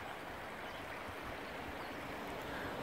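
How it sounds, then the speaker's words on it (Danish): Water from an old mill pond running into a pipe under a road, a steady, even rushing wash that stays constant throughout, with no voices. "Og vandet, det løber ind i et grimt rør ind under vejen."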